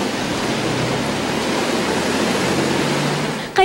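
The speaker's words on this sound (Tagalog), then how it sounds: "Malakas at tuloy-tuloy ang buhos ng ulan dito sa Baguio City." Heavy rain pours in a constant, loud roar in Baguio City, with gusting wind mixed into the steady wash of noise.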